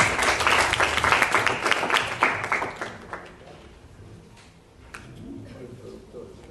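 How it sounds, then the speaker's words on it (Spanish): Audience applause at a spoken presentation: a dense burst of clapping for about three seconds that then thins out and fades into quieter room noise. "Les damos un fuerte aplauso"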